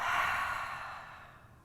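A deep, slow exhale during a yoga breathing exercise, breathy and close, starting strong and fading steadily to quiet.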